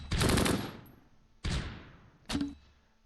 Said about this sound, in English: Mortars are landing decent. Yep, got some hits with the mortar.